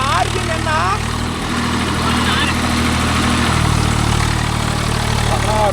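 A Swaraj 744 FE tractor, working with a 9-point spring cultivator in dryland, runs with a steady, loud, low diesel drone that holds throughout, with voices talking over it.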